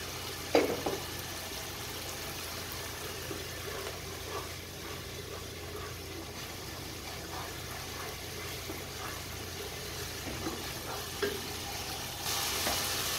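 Masala spices for an aloo baingan sabzi fry and sizzle steadily in a pan after a splash of water, a continuous hissing crackle with occasional stirring scrapes, alone without talk.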